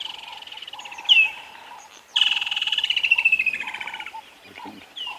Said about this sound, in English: you can actually hear a lot of woodland kingfishers calling